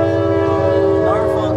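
A Norfolk Southern freight train of empty cars sounds a long, steady horn blast up close, loud and sustained, with rumbling wheels and rail noise underneath.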